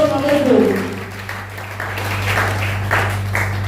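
Congregation applauding during a Sunday evangelical church service, a sustained wash of clapping under a steady hum, with speech and a voice rising over the crowd.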